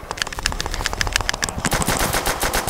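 Rapid automatic gunfire from Call of Duty: World at War's Nazi Zombies mode on Der Riese, a dense stream of sharp repeated shots that keeps going loud and steady without a break, with no talking over it.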